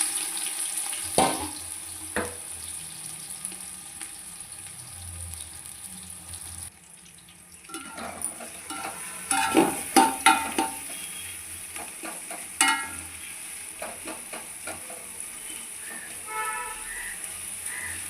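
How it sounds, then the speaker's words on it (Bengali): Sliced onions frying in hot oil for chicken biryani, a faint, steady sizzle under bursts of stirring clatter and scraping, with a brief quiet gap partway through and running-water noise from a tap. "তো এখানেই আমি পেঁয়াজগুলোকে ভালো করে ভেজে নেব।"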